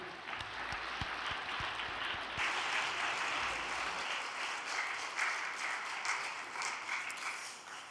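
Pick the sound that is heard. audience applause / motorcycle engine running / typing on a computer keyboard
audience applause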